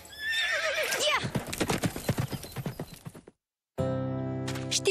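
Horse from a Romanian-dubbed farm cartoon whinnies loudly, then hooves clip-clop in a quick rhythmic run, followed by a brief silence and a sustained tonal musical sound.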